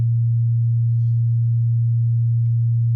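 A steady synthesized tone sits loud near 100 Hz, with a much quieter second pure tone around 220 Hz layered above it, alone and unchanging for the whole span.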